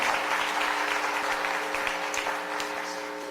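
Applause from a comedy club audience at a Paul Mooney stand-up set in Brooklyn, a dense, even wash of clapping that holds steady and fades slightly toward the end.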